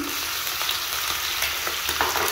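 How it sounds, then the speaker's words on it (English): Steady, close sizzling and crackling of pizza frying in a hot pan, a continuous hiss with faint scraping stirs, no voices. "So this has been frying for about three minutes."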